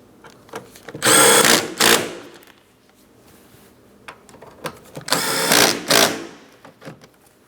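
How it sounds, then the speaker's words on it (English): A powered driver snugs the tail light mounting bolts on a 2008-2016 Chrysler Town & Country. It whirs in two loud bursts of about a second each, with small clicks and handling noises between them. "Let's start in each of the two bolts and then we can snug them up."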